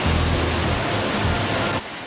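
A waterfall pours into a pool below it, a loud, steady rush of falling water that holds unbroken and then drops off abruptly at the end.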